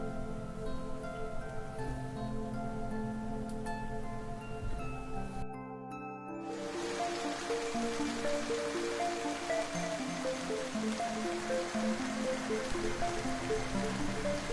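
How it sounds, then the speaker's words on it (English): Winter rain patters steadily in the New Forest, a dense wash of drops and trickling water with a brief lull before the hiss grows fuller, under a soft musical bed. "The winter rains swell the rivers and streams"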